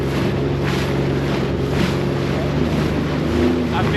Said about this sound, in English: I feel some wind, but not a lot.